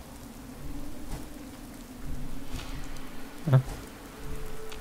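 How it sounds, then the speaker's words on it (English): Rain falling in the Fallout 4 video game, a steady soft patter throughout with a brief low thud near the end and a single short spoken interjection. "I think it's just the rain"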